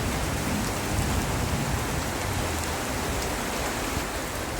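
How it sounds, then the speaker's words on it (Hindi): Heavy rain pours steadily and loudly outside a room on a dark day, a dense, even hiss of drops with no breaks, close and continuous. "जोर से बारिश आ रहा है।"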